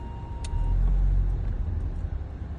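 A Mercedes-Benz E300 Cabriolet rolls slowly over a large speed bump with a low, steady road and engine rumble and a faint thump, with no voices.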